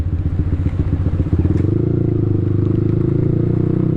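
Motorcycle fitted with a quick shifter ridden on a main road in the rain, engine loud and close, first a rough clattering idle and then a steady revving drone, with hiss of wet road.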